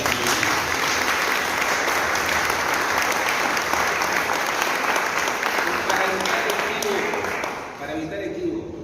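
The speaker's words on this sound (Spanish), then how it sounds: "y pido un aplauso para ella." An auditorium audience at a poetry day celebration applauds the interim director of the institution with a long, full burst of clapping from many people that holds strong before tapering near the end, when voices begin to come through.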